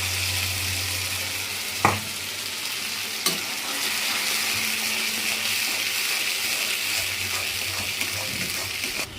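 A paste of tomato and chili hits a pan of half-fried onions. A couple of splashy thuds give way to a continuous loud frying sizzle, with some stirring underneath.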